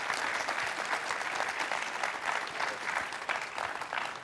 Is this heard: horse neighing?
no